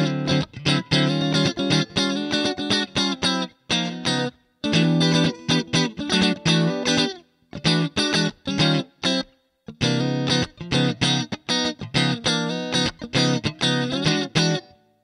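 Funky electric guitar played through the Neural DSP Archetype Cory Wong plugin, with presence boosted and a touch of reverb: tight, rhythmic chord stabs and busy riffs, loud and close, with a few brief pauses between phrases.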